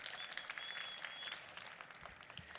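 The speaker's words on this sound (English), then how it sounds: "Ladies, please give your fellow lady a massive round of applause." A conference audience at an annual budget dialogue event applauding a fellow woman: faint, distant, steady clapping from a crowd, continuous and even across the few seconds.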